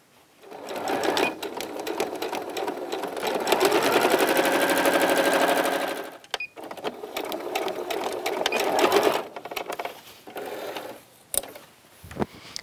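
A sewing machine sews a sleeve onto the front of a pioneer-style dress, humming loudly and continuously for several seconds, then in a few shorter runs with clicks and pauses between.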